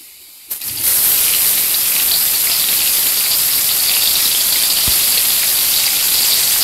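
Sliced onion frying in hot oil for Maharashtrian misal pav, a loud, steady sizzling hiss that starts abruptly and holds evenly throughout, with no voices.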